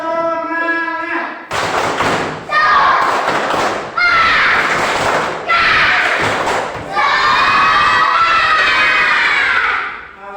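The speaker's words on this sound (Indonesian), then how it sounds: "kita tepuk semangat dulu. Satu kali lagi. Tepuk semangat." A classroom of children claps in rhythmic patterns and shouts a loud spirit chant in unison, with sharp clap bursts alternating with energetic group chanting, all close and loud.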